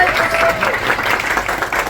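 A brief burst of audience clapping at a school play about the American Revolution, fairly close and steady, with a faint whistle-like tone near the start.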